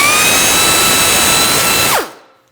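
A power tool loosens a rear brake caliper bolt on a 2022-2025 Lexus NX350 in one loud, close, steady whine that drops in pitch and cuts off, followed by brief silence and a small click.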